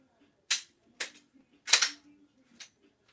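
An airsoft pistol being racked and reloaded: four sharp, separate mechanical clacks and snaps spaced about half a second apart, close and crisp in a quiet room, with a faint low murmur between them.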